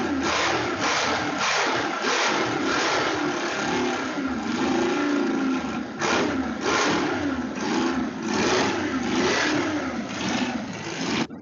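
A V6 engine revs steadily and loudly up close, with a faint rhythmic pulsing running through the sustained roar.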